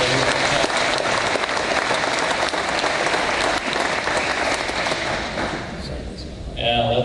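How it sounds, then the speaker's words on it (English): A crowd at Romeoville's State of the Village event applauds the village trustees and clerk with loud, sustained clapping that dips briefly near the end and then swells again as a voice cuts in. "So let's give them all a round of applause."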